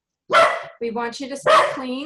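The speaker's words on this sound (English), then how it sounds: "that's my dog barking" A pet dog barks loudly several times in quick succession close by, overlapping a person speaking.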